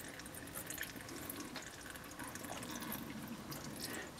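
Water runs steadily from a tap into a sink, a soft continuous splashing with no voices, fairly quiet and close.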